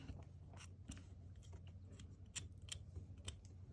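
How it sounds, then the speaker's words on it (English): Scissors snip at a charcoal portrait on a Gelli plate. The cuts come as quiet, close, crisp clicks at an uneven pace. "I'm going to take a scissors."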